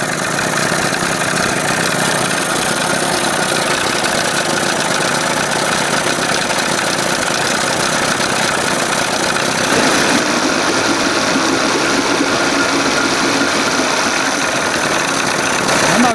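An outboard boat motor idles roughly while still cold, making a loud, close, continuous rumbling drone with an uneven, bumping beat that never stops.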